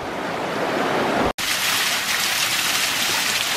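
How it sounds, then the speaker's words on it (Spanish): A small waterfall beside a river in a little canyon, a constant loud rushing roar of falling water, close and unbroken apart from a momentary cut. "que bonita cascadita, chiquita"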